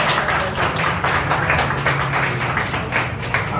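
An audience in a hall applauding a mother, a sustained wash of many hands clapping at steady volume with a low hum beneath.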